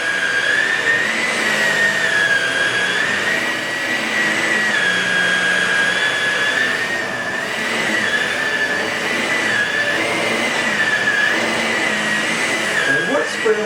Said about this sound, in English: I'm going to push the brush roll, and the brush roll now is turned on.